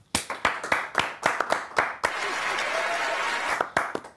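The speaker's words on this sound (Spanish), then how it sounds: "Tipo, un aplauso para mí" A few people in an audience clap rhythmically in crisp separate beats, then the sound swells into a brief, fuller wash of applause before a few last isolated claps.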